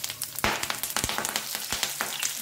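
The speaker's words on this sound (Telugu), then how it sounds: "ఈ నల్లేరుగడ్డ ముక్కల్ని ఈ నూనెలో వేసి" Pieces of nalleru root hiss and crackle as they fry in hot oil, a steady sizzle broken by frequent small pops.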